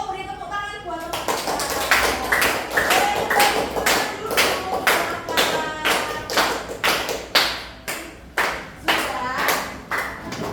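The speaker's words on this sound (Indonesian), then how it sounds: "beri tepuk tangan buat teman-teman" A classroom of students claps for their classmates during a teaching session, loud uneven rhythmic bursts of hand claps, with some voices mixed in.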